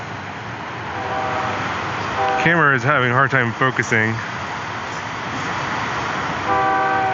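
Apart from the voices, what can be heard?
long train passing, blaring its horn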